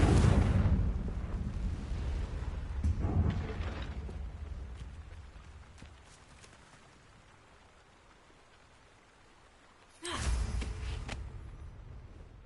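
In Hogwarts Legacy, the Confringo fire spell is cast, bursting with a loud fiery blast at the start, a smaller flare a few seconds later, and another sharp explosive burst near the end over quiet ambience.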